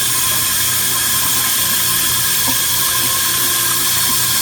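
Water runs through a whip hose in a continuous, loud, steady rush with no breaks and no voices.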